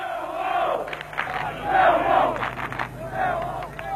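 Millwall football supporters roar and chant together in a dense crowd, their cheering swelling and falling in loud waves with shouted battle-cry bursts throughout.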